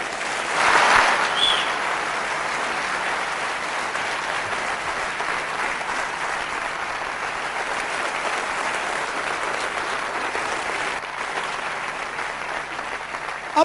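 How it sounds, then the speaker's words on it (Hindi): A large crowd at a network marketing event gives loud, steady applause for the winners, a thick wash of clapping that holds for roughly thirteen seconds without talk. "जोरदार ताली इनके लिए हो जाए।"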